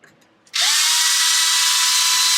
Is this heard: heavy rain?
no